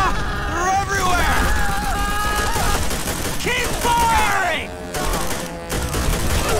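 Sustained gunfire in the PS2 Call of Duty: World at War campaign, rapid bursts of rifle and machine-gun fire mixed with shouting soldiers and battle chatter throughout.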